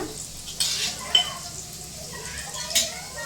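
Spinach khichdi ingredients frying in oil in a pan, a steady soft sizzle with a few sharp clinks of a spoon stirring, while someone speaks over the cooking.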